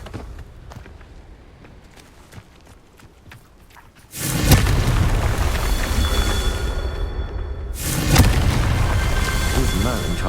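A Confringo blasting spell in the video game Hogwarts Legacy fires with a sudden loud burst that sustains as a roaring rumble, followed by a second blast surge, after a stretch of footsteps and quiet game sounds.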